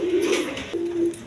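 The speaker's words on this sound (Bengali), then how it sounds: "একদম কোয়ালিটি সম্পন্ন কবুতর, ধামাচি কবুতর" Dhamachi pigeons at a farm coo in two low drawn-out rolls separated by a brief pause, close and fairly loud against a faint background.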